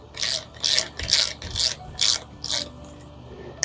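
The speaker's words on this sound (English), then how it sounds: "I use my handy dandy torque wrench for everything." A torque wrench ratchets aero bar extension bolts tight on a Canyon bicycle, giving about six short, crisp clicking bursts in a steady rhythm, close and fairly loud with no talking.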